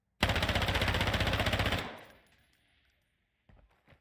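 Automatic fire from the Advance rifle in a first-person shooter: one rapid, evenly paced burst lasting under two seconds, close and loud, then a fading echo and a couple of faint clicks.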